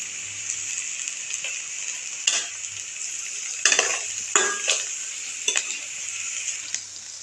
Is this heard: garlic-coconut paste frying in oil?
yes